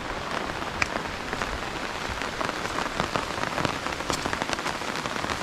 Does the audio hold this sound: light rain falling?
yes